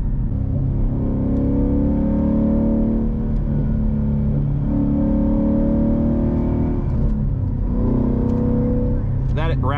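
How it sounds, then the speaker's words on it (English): A 2015–2017 Ford Mustang GT S550 with a 5.0 V8, bigger exhaust cam and Roush exhaust accelerates, its deep, steady engine note rising and falling in waves, loud and close throughout with a brief whine at the very end. "That Roush exhaust sounds so phenomenal on this."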